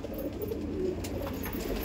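Saharanpuri pigeons cooing, soft low throaty coos repeating in a steady rolling pattern, fairly close but quiet, with no talking.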